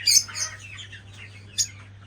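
Caged doves and parrots, including ringneck parrots, chirp in short, bright bursts, with a loud cluster at the start and another sharp call near the end over a steady low hum.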